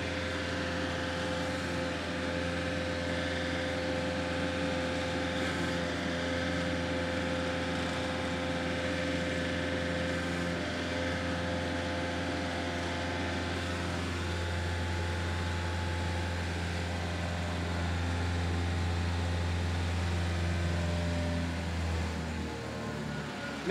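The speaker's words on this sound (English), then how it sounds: "this unit has a 50 horse diesel engine on there" GapVax vacuum unit with a 50 horsepower diesel engine runs steadily at an expo demo, a loud, continuous droning hum with an even tone and no talk over it.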